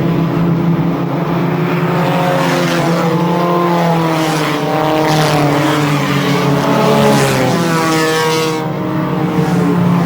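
Racing engines at Columbus Motor Speedway, a loud continuous drone of several cars at full throttle, harmonic pitch rising and falling as the pack sweeps past on the oval, with no pauses.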